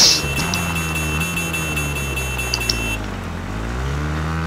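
A two-stroke dirt bike engine in the video game Fortnite, a steady, buzzy drone at close range whose pitch wavers and dips briefly before rising again, with faint clicks from the game on top.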